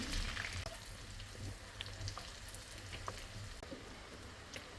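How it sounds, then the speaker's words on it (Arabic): Boiled potatoes fry in melted butter and oil, a soft crackling sizzle with scattered pops and light spatters, heard faintly and steadily without voices. "نحط البطاطس اللي سلقناها مع بعض ونخليها تتحمر"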